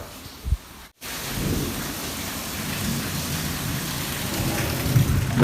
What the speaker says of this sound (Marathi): एकदम जोरदार असा पाऊस व्हायला पाहिजे दररोज